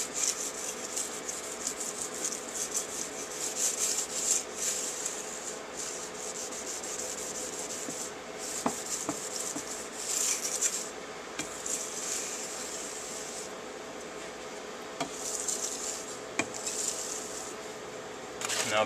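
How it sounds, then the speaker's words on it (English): A soft-steel bolo machete is hand-sharpened on sandpaper, giving a steady, faint rasping rub of repeated back-and-forth strokes that continues without a break. "It's just not very hard steel, so responds very well to hand sharpening."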